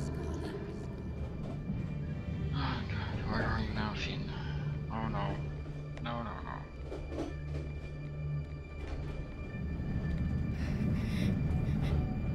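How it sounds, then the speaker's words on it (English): A train ride in the video game Blackwood Crossing, with a steady low rumble and rattle of the carriage running underneath as people talk over it. "We're back on a train."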